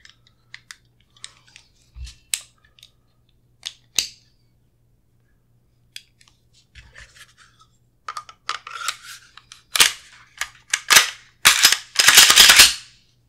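Clicks and snaps while an H&K VP9 pistol is reassembled and its recoil spring inserted, sparse sharp metallic clicks at first, then a denser cluster of louder snapping and sliding metal sounds near the end.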